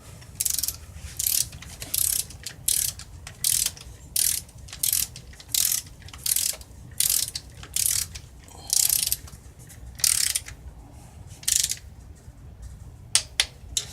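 Rapid bursts of ratchet clicking as a socket wrench tightens motorcycle clutch bolts on a 2013 ZX10R, about fifteen short, close, loud runs separated by brief pauses.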